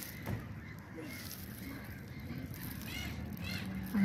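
Seagulls call overhead above a city pond, a few distant harsh cries rising from quiet outdoor ambience, with faint voices nearby.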